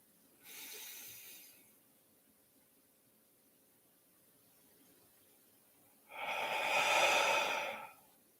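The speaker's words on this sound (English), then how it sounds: "taking one last breath here" Two slow, close, airy breaths: a short inhale, a pause of near silence, then a longer, fuller exhale during a calm meditation session.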